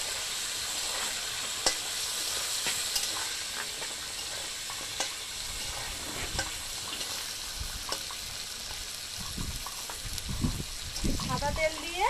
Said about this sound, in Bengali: এবার চিকেনটাকে ভেজে নেব।